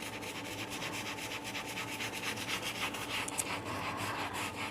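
A brush scrubs tile grout back and forth in a continuous, steady, gritty rubbing rhythm, fairly close and with no pauses.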